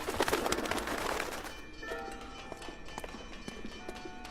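Pigeons in a pigeon loft in a video game, soft fluttering and shuffling with faint coos, busiest at the start and then settling into scattered light movements.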